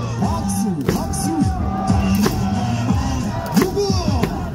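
A baseball stadium crowd at a game cheers and claps, with chanting voices rising and falling in rhythmic bursts over a dense, continuous roar of the fans.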